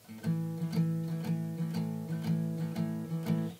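An acoustic guitar plays a steady, repeating blues rhythm on the low strings, with sharp plucked accents at an even shuffle tempo.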